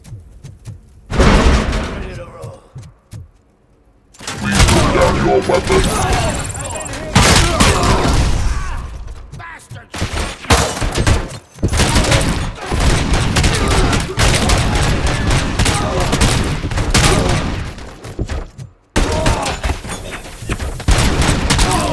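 Pistol gunfire in the Robocop video game, loud dense volleys of shots and impacts that run almost continuously with brief gaps, under game effects.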